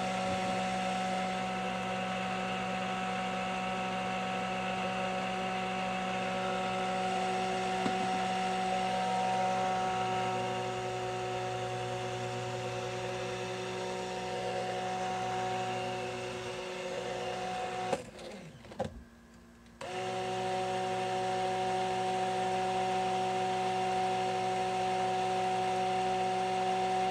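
A stick blender mixes thick hot-process soap batter with a steady, whirring motor hum. It cuts out briefly about two-thirds of the way through, then resumes at the same level.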